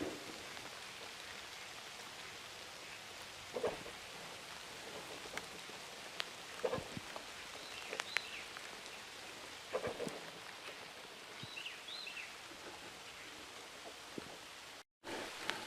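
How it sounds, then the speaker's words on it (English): Steady rain pattering on a forest trail during a bike ride, with scattered louder drops and faint rumbles of distant thunder, no voices. "And excuse the rain."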